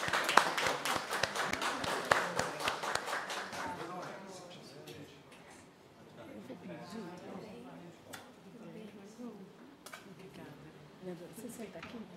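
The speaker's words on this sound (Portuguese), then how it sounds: "Vamos aplaudir a vereadora Elza." Applause for a councilwoman arriving at a special plenary session in a chamber, a dense burst of clapping for the first four seconds that thins out, followed by murmuring voices and scattered sounds.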